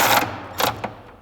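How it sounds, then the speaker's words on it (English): A 3/8 electric impact gun tightens a nut on a running board bracket of a 2021-2023 Ford Bronco, firing three short bursts close by, the last one briefest. "I'll grab my 3/8 electric gun here"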